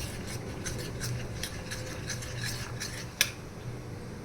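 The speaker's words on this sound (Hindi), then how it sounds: "मैदे में हम घी डालेंगे और घी डालकर इसे हम घोल लेंगे" Maida flour being stirred with ghee into a slurry for namak para makes soft, rhythmic rubbing and scraping strokes at a steady pace, close and alone, with one sharper tap near the end.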